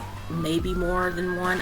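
An emergency siren passing outside, its rising wail held for a moment behind a person speaking nearby.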